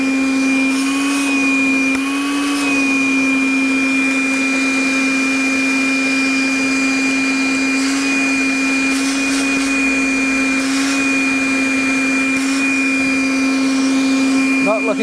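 A Makita 40V cordless vacuum runs steadily throughout with a strong whining motor tone and airy hiss at constant loudness, close up, with no talk over it.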